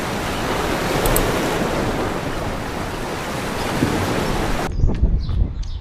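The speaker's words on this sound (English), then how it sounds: "So this is a hidden waterfall in Loulé." A hidden waterfall in Loulé, Portugal pours with a steady, dense broadband rush heard up close and alone for most of the clip, before the roar cuts off abruptly near the end and a few faint knocks follow.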